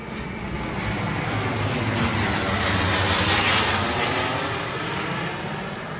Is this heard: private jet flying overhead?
yes